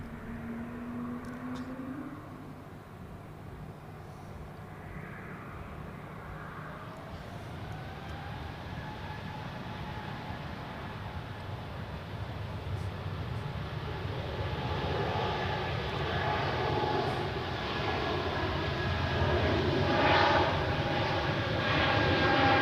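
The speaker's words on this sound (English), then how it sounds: "on runway 28, ready for departure, is an Embraer 190 E2 to Oslo" An Embraer 190 E2 jet departs runway 28 at Zurich Airport, its engine roar building steadily from a distant rumble to a loud, broad thrust sound over about twenty seconds.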